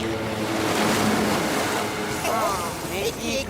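Cartoon boat tearing across the water and throwing up heavy splashes, a dense continuous rush of engine noise and spray with a short swirling whoosh near the end.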